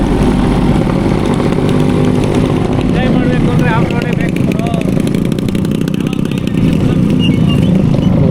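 A Yamaha RX two-stroke motorcycle rides off-road with a loud, constant, buzzing engine drone throughout, and voices talk faintly beneath it.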